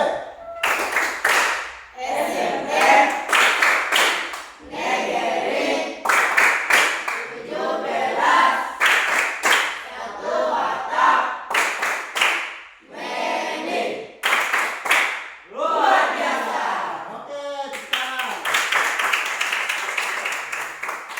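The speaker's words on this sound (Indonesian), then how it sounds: "Kita berikan semangat untuk tepuk tangan SMP" Junior high school students clapping in a classroom, rhythmic bursts of group hand claps in short repeated rounds, loud and close, with some voices mixed in between the clapping.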